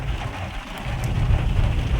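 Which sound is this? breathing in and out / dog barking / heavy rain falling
heavy rain falling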